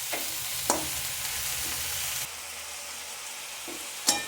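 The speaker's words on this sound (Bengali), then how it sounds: "এবার আমি সব শাকগুলো এতে দিয়ে দেবো। দিয়ে দিয়ে নাড়বো।" Leafy greens dropped into a hot spice paste and stirred, a steady sizzle with a few sharp spatula scrapes, quieting partway through as the frying settles.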